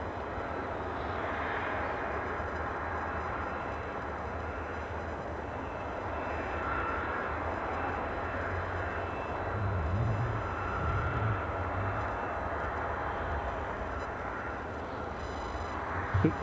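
An airplane departing Edinburgh Airport for Faro gives a steady, loud jet-engine rumble that holds for the whole stretch, a continuous roar with no voices.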